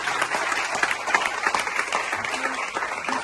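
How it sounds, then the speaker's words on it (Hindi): Audience at a college talk giving a round of applause, dense steady clapping, fairly close, with faint voices mixed in. "हमें और भी जोरदार तालियां एक बार बजानी"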